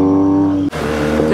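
A BMW GS motorcycle accelerating hard to overtake on a mountain road, a loud close engine drone that breaks at a gear change and then pulls on with rising revs. There is no talk.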